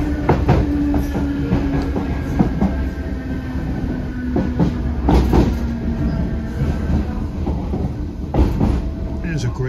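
An Irish Rail Class 8100 electric multiple unit train rolls along steadily between Greystones and Dublin Connolly, heard onboard, with a low motor hum, rhythmic wheel clatter and occasional sharp clicks over rail joints.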